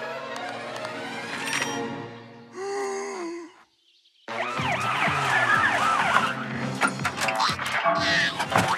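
In a Masha and the Bear cartoon, after some breathy gasps and a brief silence, an ambulance siren wails loudly in rapid rising and falling sweeps.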